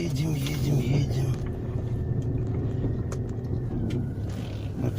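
A car jolts along a bad, bumpy road with a continuous low rumble and rattling, its engine droning steadily underneath; a voice is briefly heard near the start.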